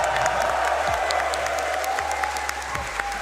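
A crowd at a BLAST Rainbow Six Manchester Major esports quarterfinal applauds and cheers, dense continuous clapping filling the hall, loud and sustained without a break.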